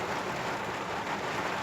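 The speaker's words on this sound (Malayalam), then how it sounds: "പുറത്ത് നല്ല മഴയുണ്ട്." Heavy rain falling outside on a rural village trip, a dense, steady roar of drops on surfaces with no break, loud and close, no voices.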